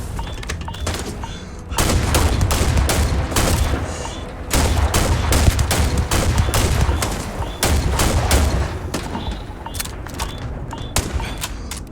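Starfield combat gunfire in loud, sustained volleys of rapid shots, with three long bursts separated by brief lulls, close and dominant throughout.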